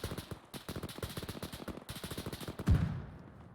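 Rapid machine gun bursts in a military video game, a dense rattling stream of shots that pauses briefly and resumes, ending in a louder deep blast, with no voices.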